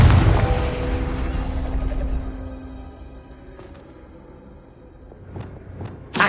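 A Confringo fire spell explodes in the Hogwarts Legacy video game with a loud, booming blast that rumbles and fades over a few seconds, followed by a few lighter impact thuds near the end.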